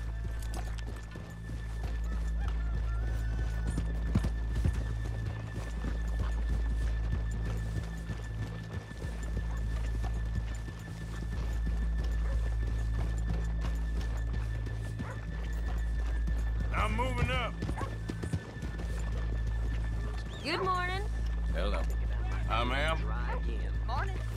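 Horses in Red Dead Redemption 2 walk with a steady clip-clop of hooves, broken by a couple of whinnies, while people talk over the game sound.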